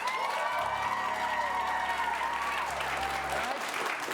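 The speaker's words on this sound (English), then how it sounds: "clap loudest for the film you want to see go on in the last act" A live improv comedy audience claps and cheers loudly to vote for the film they want to see, a thick, sustained burst with a host's voice running over it.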